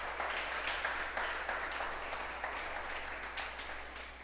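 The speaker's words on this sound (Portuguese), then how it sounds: "Por favor, aplauda ele." A church congregation applauds during a sermon with a dense, steady patter of clapping that gradually fades, heard from a moderate distance in a reverberant room.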